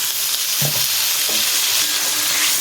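Masala for a salted fish curry hisses loudly and steadily in a hot pan as water is added, with a few soft clinks inside the close, continuous sizzle.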